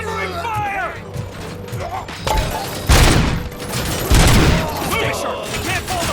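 Gunfire in the shooter game RoboCop: Rogue City comes in heavy, loud bursts of rapid shots with mechanical clatter between them, while voices shout over the fighting.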